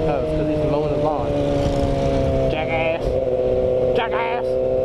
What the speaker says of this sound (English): it's because he's mowing the lawn